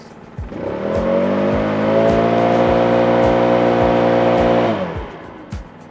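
A gas backpack leaf blower's small engine revs up and drones loudly at a steady high pitch for several seconds, then cuts back down, with faint clicks throughout.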